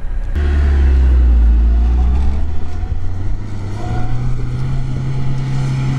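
A stock 4x4 engine roars loud and close while the vehicle climbs a sand slope, a deep steady drone with wind buffeting the microphone and the pitch rising slightly near the end.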